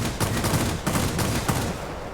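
Aircraft guns on the Ki-94-I fighter fire in the World of Warplanes video game, in several rapid bursts of dense chattering shots, fairly close and moderately loud, with no talking.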